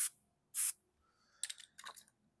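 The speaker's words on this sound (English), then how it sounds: "I'll just take and spray some down." Chain lubricant hisses from an aerosol can onto primary clutch parts in two short, close bursts, followed by a couple of faint clicks and rustles.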